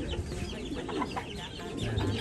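Chickens cluck softly and repeatedly in a continuous, busy chorus, with a low rumble underneath and no other sounds standing out.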